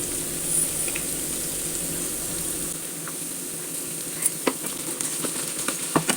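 Beetroot and chopped date pickle being stirred with salt in a pan, a soft steady sizzle with scraping spoon strokes that turn into sharper clinks toward the end, close and with no talking.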